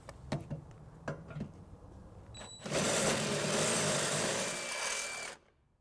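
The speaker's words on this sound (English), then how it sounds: "we have upgraded to a bigger bit. So we're going to go ahead and just enlarge this to be able to get our bolt through." A few light taps, then a loud, steady whirring drone for about three seconds as a drill with a bigger bit enlarges a pilot hole for a trailer hitch bolt on a 2016 Ford Focus, stopping abruptly.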